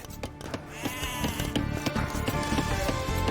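Sheep bleat in the Age of Empires II: Definitive Edition real-time strategy game, several overlapping bleats repeating over busy game sounds and background music.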